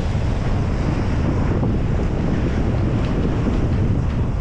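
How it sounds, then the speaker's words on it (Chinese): Wind gusts across an open viewing platform beside Lake Baikal, a loud, continuous rumbling buffet against the microphone with a faint wash of water beneath it. "还是有点冷，刮风啊"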